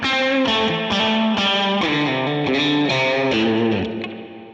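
Electric guitar through a Line 6 Helix with the reverb placed before the amp plays a run of distorted chords, each strummed hit ringing wet and springy into the next before trailing off at the end, with no talking.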